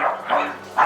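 Rescued dogs at an animal shelter bark in three short, mid-loud bursts close by, with a brief pause between each bark.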